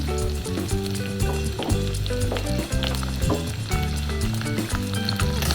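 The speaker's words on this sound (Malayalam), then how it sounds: "ചെറിയ ഉള്ളി നന്നായിട്ട് നോക്കട്ടെ. ചെറിയ ഉള്ളി മൂത്ത് വന്നിട്ടുണ്ട്." Chopped shallots frying in a pan for Kerala kadala curry, giving a loud, steady sizzle with occasional stirring scrapes throughout, no voices.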